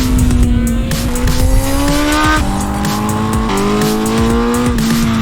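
A Honda CBR1000RR-R SP engine screams through stepped gear changes, pitch climbing and dropping sharply, loud and close at speed.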